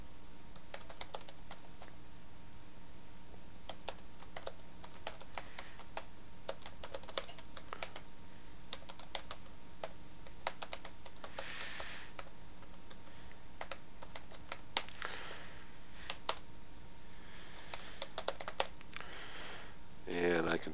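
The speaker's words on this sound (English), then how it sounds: "can type and type and type." Rapid clicking of a computer keyboard as someone types in a quiet room, bursts of close keystrokes running throughout with a faint steady hum beneath.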